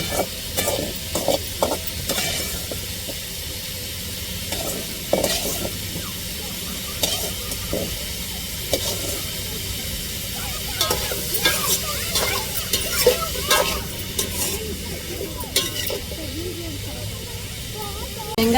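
Sautéed okra being stir-fried in a pan, with close hissing sizzle and intermittent scraping stirs and clatter, while a voice talks at times over the cooking.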